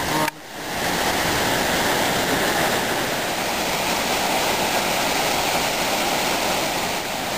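A big waterfall roars as a loud, constant broadband rush of falling water, steady and unbroken throughout.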